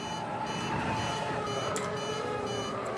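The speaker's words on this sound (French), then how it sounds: "Ça fait bip et ça fait flash." Warning beeps sound in the Star Wars: Squadrons video game, a steady electronic alarm tone droning loudly over cockpit and engine noise, with brief sharp blips near the end.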